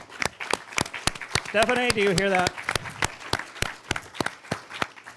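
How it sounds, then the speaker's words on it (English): Sparse audience applause at a talk, scattered individual claps spread across the room, with a person speaking briefly in the middle. "Stephanie and Jack over here deserve a round of applause."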